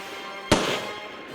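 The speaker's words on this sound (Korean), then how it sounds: "사라예보에서 총성이 울렸다." A single sharp gunshot rings out once, loud and close, with a short reverberant tail over a low steady background; it stands for the shot fired in Sarajevo in 1914.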